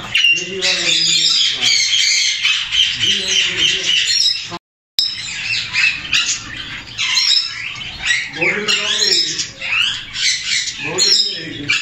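Parrots kept in a breeding aviary squawk and chatter loudly and close by, with overlapping harsh calls and chirps that continue almost without pause, dropping out briefly once before resuming.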